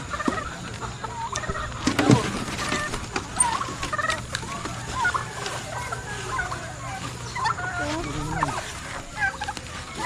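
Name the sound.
backyard chickens and turkeys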